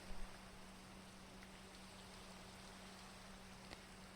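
Steady rain in the video game Minecraft hisses as an even, faint wash with no pauses, following a short soft thump at the start.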